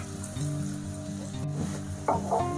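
Onions fry in a pan as chopped ginger goes in for jowar kichidi, a continuous close sizzle with a brief stirring burst toward the end.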